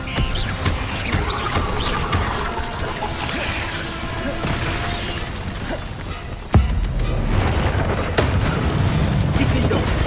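Incendio fire spell cast in the video game Hogwarts Legacy, a dense run of fiery bursts and booming impacts layered over game effects, with a sharp loud blast partway through and sustained crackling energy after.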